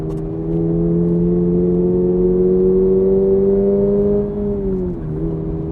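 Steady Toyota GR86 engine drone heard from inside the cabin in third gear at 4,000 RPM, holding a constant mid-rev pitch with a smooth hum, then dipping briefly near the end before settling again.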